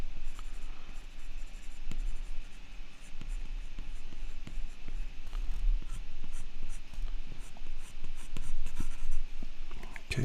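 Pencil scratching and sketching across paper while drawing a character: steady, close, continuous scratchy strokes with small taps, filling the whole stretch over a faint background hum, with no talking.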